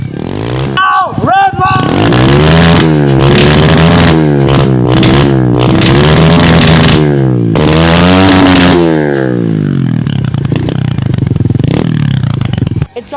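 A 125cc pit bike engine fires up for its first start after six months and revs hard repeatedly, loud rising and falling buzzing sweeps close by, then settling to a rough idle near the end.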